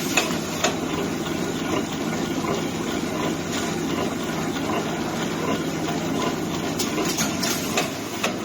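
A 6-lane semi-automatic wet wipes production machine with a conveyor runs steadily, a loud continuous mechanical hum with faint rhythmic clatter and ticks, no talking.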